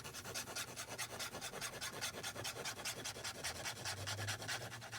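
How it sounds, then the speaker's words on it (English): Bookbinding glue being spread by hand during book assembly, a steady rhythmic rubbing and rasping of repeated strokes, close and moderately quiet, with no talking. "I'm gonna put down my bookbinding glue."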